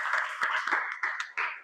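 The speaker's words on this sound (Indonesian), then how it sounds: "Ya, kita berikan aplaus untuk kita." A class gives itself a round of applause, a dense, close burst of many hands clapping that swells in several surges before fading, with no voices over it.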